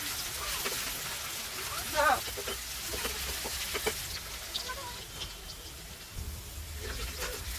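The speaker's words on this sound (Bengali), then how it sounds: "সরিষা তেলটা গরম করে দিয়ে দিছি পেঁয়াজ কুচি" Chopped onions fry in hot mustard oil over a clay stove, a steady broadband sizzle running the whole time beneath a voice speaking.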